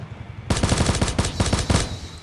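Rapid automatic gunfire in the video game Knives Out: one loud, close burst of about a dozen evenly spaced shots lasting just over a second, then fading.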